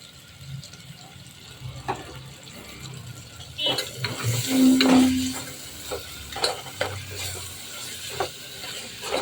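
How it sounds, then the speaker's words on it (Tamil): Chopped tomatoes sautéing in a pan for cooker biryani, with salt added; soft sizzling with scattered clinks and stirring scrapes, and a voice speaking at times. "தக்காளி ஒரு 2 நிமிஷம் வதங்கட்டும்."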